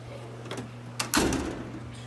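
A drawer holding impact tools on a small-engine mechanic's toolbox slides open with a short metallic rolling rush midway through, preceded by faint clicks over a steady low hum.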